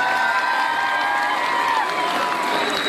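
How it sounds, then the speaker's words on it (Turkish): A crowd claps and cheers in a continuous, dense wash of sound at an open-air Republic Day concert in Mustafakemalpaşa, with a few tonal music or voice traces riding over the roar. "Onlara da güçlü bir alkış rica ediyorum sizden."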